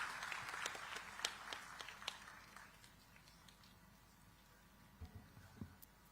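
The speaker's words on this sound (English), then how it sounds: "a thunderous round of applause" Distant crowd applause at a digital technology summit patters faintly and dies away after a few seconds, leaving a quiet room with a few soft thumps.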